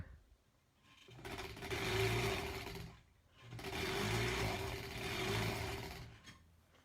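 A sewing machine runs in two steady bursts of stitching while granny square quilt blocks are pieced with a quarter-inch seam, its motor whirring loudly with a short pause between runs and no talk over it.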